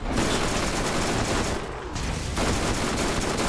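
Dense, sustained automatic gunfire from twin Anarchy guns in the Borderlands video game, a loud unbroken volley that pauses briefly near the middle before resuming at full intensity.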